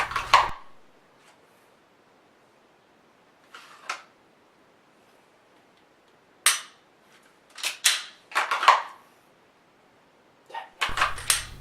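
An unloaded pistol is dry fired during slow practice, producing scattered sharp trigger and slide clicks, some single and some in quick pairs, set against near silence.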